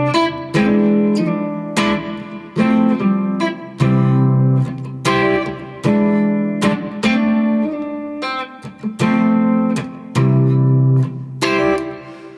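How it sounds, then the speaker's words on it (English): Intro of a song on guitar: rhythmic plucked chords and picked notes in repeating phrases with short stops between, loud and close, no voices. "the song starts with an intro which is just an awesome bit of guitar playing"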